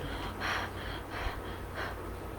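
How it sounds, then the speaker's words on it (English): Heavy, rapid breathing after running exercise, with three loud breathy gasps about half a second apart over steady low background noise; no talking. "Our breathing has increased, so our body is needing more oxygen."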